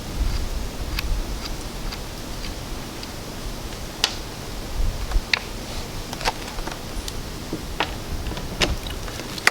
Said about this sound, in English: I like to use this ratcheting screwdriver for my boards.